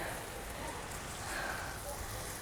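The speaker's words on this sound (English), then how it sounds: "Honestly, the rain doesn't even bother me." Steady rain falling on and around an open bus stop without a roof in Valencia, a faint even hiss of drops with no other distinct sounds.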